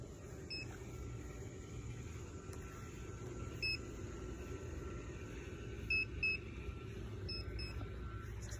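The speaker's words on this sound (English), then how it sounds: "We got a beep right here." Metal detector sweeping over a buried quarter, giving several short, faint, high beeps spread over a low outdoor rumble, with no speech.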